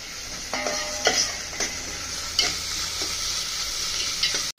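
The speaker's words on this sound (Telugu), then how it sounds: "ఈ మాత్రం వేగితే సరిపోతుందండి" Gongura prawn biryani ingredients frying in a pan with a steady close sizzle, broken by stirring scrapes and clicks, no voices.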